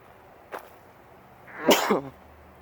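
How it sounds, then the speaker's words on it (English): A short breathy catch, then one loud close sneeze, with quiet room tone on either side. "I'm gonna sneeze again."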